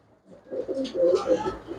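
Pure-bred pigeons kept for sale coo close by in soft, low, throaty bursts, a few rolling calls following one another over a quiet background.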